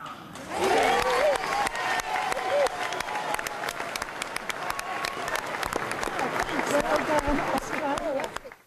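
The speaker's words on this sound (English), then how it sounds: "his words were greeted with applause and release" Sustained applause from a large crowd, steady and enthusiastic, with some cheering voices mixed in before it fades at the end.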